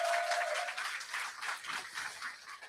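Audience applause at a lecture at a Seoul branch office, a steady wash of many hands clapping at moderate distance for a few seconds, with no talking over it.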